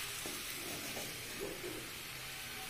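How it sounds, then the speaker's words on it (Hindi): Chopped tomatoes hit a pan of frying chickpeas for chhole and give off a soft, continuous sizzle and hiss, with a few faint stirring scrapes and no talk. "अब हम इसमें टमाटर ऐड करेंगे। हम इसमें कटा हुआ टमाटर ऐड कर रहे हैं"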